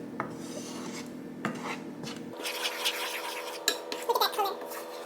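A shrimp boil is stirred in a pot with honey, giving close scraping and rasping with clinks of a utensil against the pot wall, continuous at first, then quieter scrapes with a few sharper clanks near the end.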